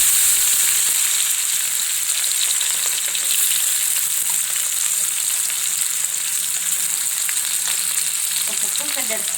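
Onions added to hot oil with cumin seeds sizzle and fry steadily in a pan for a North Karnataka potato stir-fry, a dense, even crackle that stays loud throughout with a few brief stirring clinks near the end.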